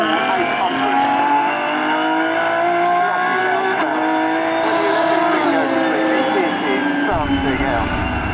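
An Aston Martin Vulcan hypercar with an 820bhp engine is driven flat out on a race track, its engine a loud, sustained howl heard from inside the car, with the pitch rising and falling through the gears and a voice speaking over it.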